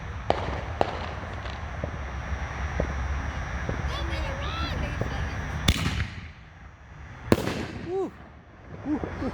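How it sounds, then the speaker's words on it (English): Two 6-inch Miracle canister shells burst outdoors at a fireworks demo, each a sharp, loud boom followed by crackling, over a steady background of crowd noise and talk. "All right, we got 6-inch bombs by Miracle."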